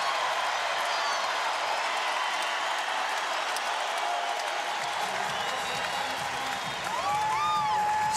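A sold-out arena crowd at the Utah vs Gonzaga NCAA women's basketball championship game roars with sustained cheering and applause, a dense, loud wash of noise with scattered whistles and shouts throughout.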